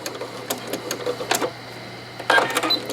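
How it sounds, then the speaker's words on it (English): Sewing machine back stitching through a padded quilted pot holder being made into a glasses case, giving short bursts of rapid mechanical stitching with a steady motor hum between them, heard close up. "get to the edge, I'm just going to back stitch"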